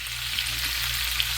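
Onions and garlic frying in keto grease in a HexClad pan, a steady loud sizzle that stays even throughout, with no voices.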